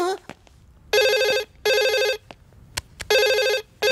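A telephone rings in three long bursts of bright electronic trilling, with short gaps and sparse clicks and rustles between them, loud and close, with no talk over it.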